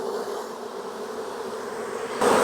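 Honey bees buzz steadily around a beekeeper working an open hive being treated for beetles, a dense close swarm drone that grows louder near the end.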